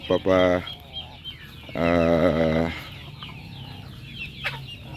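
Chickens cluck and call nearby in two loud bursts, with faint background rustling between them.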